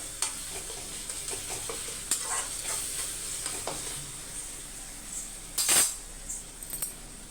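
A dried anchovy thokku frying in a pan sizzles softly as a spoon stirs it, with scattered metallic scrapes and clinks and a louder clatter near the end.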